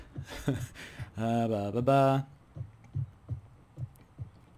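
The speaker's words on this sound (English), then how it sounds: "Again, heart beating so fast." A thumping heartbeat in the Project Zomboid video game, steady low double-pulses repeating after a burst of humming or voice at the start, heard fairly close and clear.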